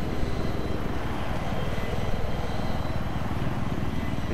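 A Viper attack helicopter in Battlefield 3 flying over Kharg Island, its rotor and engine forming a loud, steady, close roar with a fast pulsing chop throughout and nothing else over it.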